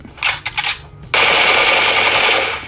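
Gunfire from PUBG Mobile plays on a Meizu Note 21 Pro phone. A quick stutter of automatic bursts is followed by a loud, sustained rattling roar of fire.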